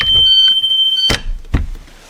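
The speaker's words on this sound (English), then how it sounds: "Make sure they open and the alarm comes on." School bus emergency exit checked during a pre-trip inspection: a shrill steady alarm tone sounds, then stops with a clunk as the door moves, followed by another sharp knock.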